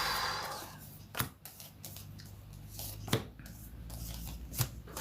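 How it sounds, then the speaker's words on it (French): Tarot cards shuffled and drawn during a fortune-telling reading, with soft rubbing card noise and three sharp snaps or flicks as cards are laid down, close and fairly quiet. "Donc, je vais tirer les cartes."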